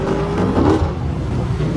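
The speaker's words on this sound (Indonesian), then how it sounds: "dikagetkan dengan kemunculan sebuah mobil berkecepatan tinggi menyusul mereka berdua" A high-speed car overtakes on the road, a loud continuous engine roar with a rising whir as it surges past, filling the whole moment without voices.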